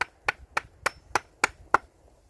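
A hammer drives nails into wood while a hunting hideout is built, seven sharp, evenly spaced strikes close by at a quick steady rhythm, fairly quiet and with no talk.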